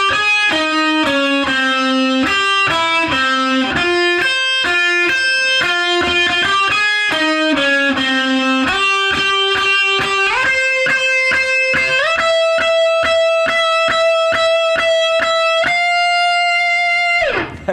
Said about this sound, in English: the next thing I want to show you for this song is the solo, and it's a really cool solo